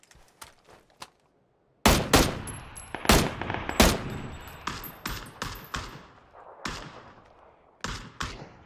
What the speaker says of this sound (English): just someone shooting